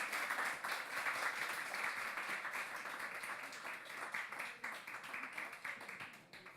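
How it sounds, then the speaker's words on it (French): An audience applauds at a youth book prize ceremony in Saint-Maur, a steady dense patter of many hands clapping that holds for several seconds and slowly thins toward the end. "Vous pouvez l'applaudir."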